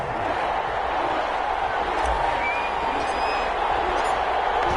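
Stadium crowd noise from an American football video game on PS4, Atlanta Falcons against New Orleans Saints in New Orleans, a steady dense roar of many voices held at an even level throughout.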